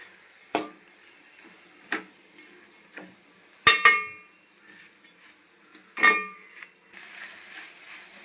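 Grated coconut is sautéed in a pan for a ladies finger tamarind curry, with soft sizzling and a few sharp stirring clanks of a utensil against the pan at irregular intervals.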